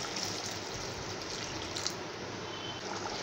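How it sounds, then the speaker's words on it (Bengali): Hot water poured from a cup into chicken kadai gravy cooking in a pan, a soft, steady pouring hiss held close for a few seconds with no voices. "আর চিকেনটা সেদ্ধ করার জন্য 1 কাপ পরিমাণ গরম জল দিয়ে দেব।"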